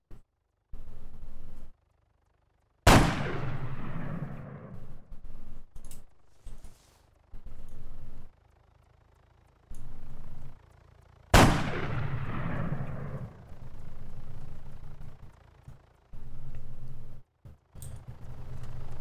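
Sniper rifle shots crack in ArmA 3 Wasteland, two loud, sharp reports about eight seconds apart, each trailing off in a long echoing decay, with quieter bursts of in-game sound between them.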